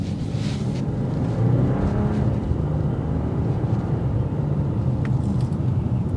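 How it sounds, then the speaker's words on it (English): A 2024 BMW 540i xDrive with an inline-six twin-scroll turbocharged engine in comfort mode gives a steady, moderately loud engine and road rumble from inside the car while driving. "this is an inline 6 twin-scroll turbocharged engine"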